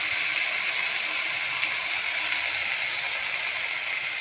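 Washed sesame seeds dry-roasting in a pan as they are stirred, giving a steady, close hiss with fine crackling throughout and no voices.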